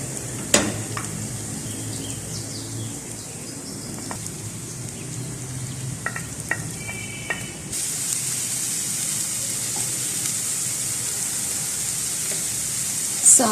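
Softened onions sizzling in a pan as capsicum goes in, a steady close frying hiss with a few clinks and stirring, swelling into louder, brighter sizzling partway through.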